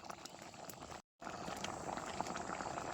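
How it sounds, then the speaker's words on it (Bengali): Lentil dal boils in a pot with a faint, steady bubbling and hiss, broken by a short gap of silence early on, then continuing evenly. "দেখেন ডাল কত সুন্দর ফুটতে আরম্ভ করছে"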